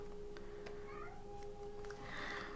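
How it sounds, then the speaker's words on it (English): A house cat meows a couple of times, faint thin calls under a steady low hum and background noise, with someone speaking softly nearby. "Why are you meowing again?"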